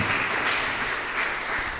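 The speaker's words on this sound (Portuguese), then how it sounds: "as palmas bem forte para louvar ao santo nome do nosso Salvador Jesus Cristo" Congregation in a church applauding firmly in praise during a Portuguese-language jubilee service, a steady dense wash of many hands clapping at once, continuous and fairly close throughout.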